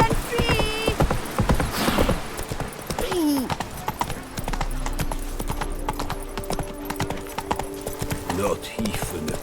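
Hooves of Roach, the horse in the video game Witcher 3, clip-clopping in a steady walking rhythm, close and clear, with a neigh early on and voices speaking over the hoofbeats.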